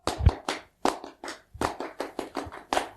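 A group of Pramuka scouts performs their patterned scout clap, crisp hand claps in quick rhythmic bursts with short pauses between phrases, loud and close without any talking.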